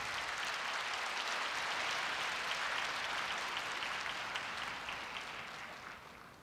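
A large crowd of new students and guests at Korea University's 2016 entrance ceremony breaks into big, sustained applause, a broad even wash of clapping that holds steady and then starts to fade toward the end.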